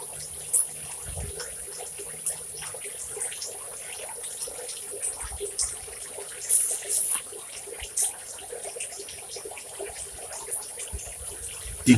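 Water poured from a jug onto garden plants on a very hot day, a soft continuous splashing trickle with a few louder spatters, fairly close and quiet.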